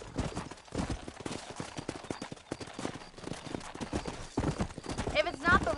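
Horse hooves clip-clop at a quick pace across a ranch in a video game, a close, busy rhythm with a whinny, while a voice talks over the hoofbeats.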